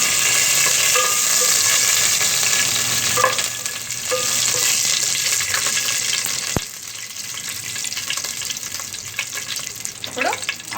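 Garam masala whole spices tempering in hot oil for Hyderabadi egg biryani give a loud, steady sizzle that runs throughout, with a few faint clinks of a utensil.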